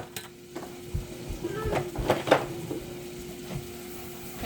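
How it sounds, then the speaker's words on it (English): A spoon stirring flour into melted butter in a pan, a few soft scraping strokes with a gentle sizzle that cluster in the middle, quiet and close. "And I'm just going to stir it in."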